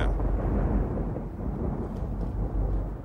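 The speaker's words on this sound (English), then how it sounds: "Lightning and thunder." A deep, rolling thunder sound effect rumbles loudly and continuously for a few seconds, low and heavy, with no voices over it.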